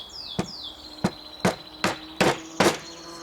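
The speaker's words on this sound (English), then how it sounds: "So this is where the mallet comes in." A wooden mallet taps a grooved wooden sidebar into a beehive frame as it is assembled: six sharp, close knocks about every half second, growing slightly louder, with faint high chirping in the background.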